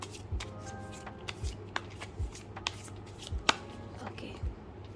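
A mini tarot deck shuffled in quick, regular riffles and taps over a steady low hum, close and clear, with no voices.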